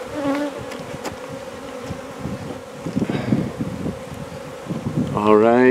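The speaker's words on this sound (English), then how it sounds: "We're gonna have a time getting the bees off of us, because everybody's got bees" A swarm of bees buzzes steadily around beekeepers working underground hives, a dense close hum that persists throughout with scattered handling noise and a louder surge near the end.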